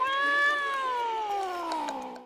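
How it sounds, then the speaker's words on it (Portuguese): The drawn-out cat meow of Toshio from the horror film The Grudge, a single long, eerie tonal cry whose pitch sinks slowly over about two seconds, heard clearly and alone. "bizarro, som de gato"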